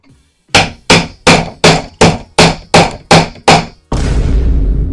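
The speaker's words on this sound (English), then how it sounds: "I take this tool, which is a hammer" A hammer strikes a metal tool seated on a garment fastener nine times in a quick, even rhythm, each blow loud and close, followed by a sustained rough rumble.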